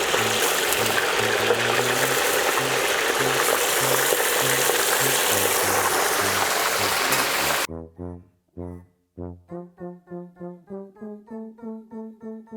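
Dense, steady sizzling of meat frying in a hot pan for plov for several seconds, then it stops abruptly and a series of rhythmic, tonal bursts follows.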